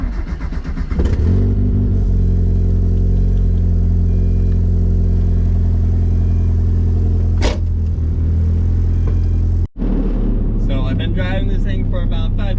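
A Mazda Miata engine warming up before a drive, idling loud and close with a steady hum, one sharp rev around the middle, then a clear change in engine tone near the end.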